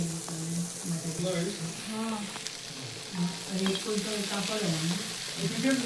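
White okra frying in a pan, steady sizzle with stirring scrapes under a voice that talks throughout.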